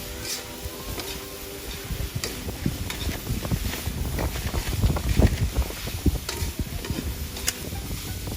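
Strong gusts roar and buffet the microphone outdoors in a backyard in an unbroken, rumbling wash, swelling louder toward the middle with crackling bursts throughout.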